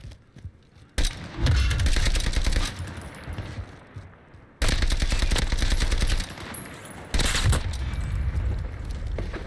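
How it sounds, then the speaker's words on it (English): Three long bursts of automatic MP5 submachine-gun fire in a Call of Duty battle royale match, loud and close, each lasting a couple of seconds and separated by brief quieter gaps. "Who's shooting at me?"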